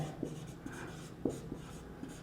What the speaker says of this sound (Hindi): चलिए लिख लेते हैं इसको भी हम।